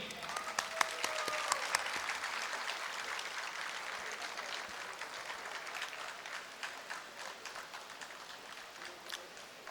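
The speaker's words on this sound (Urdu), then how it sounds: "Give him a huge round of applause" An alumni reunion audience applauds an honoured guest, a broad, even wash of many hands clapping at moderate distance for nearly ten seconds, with a few sharper individual claps standing out and faint voices mixed in.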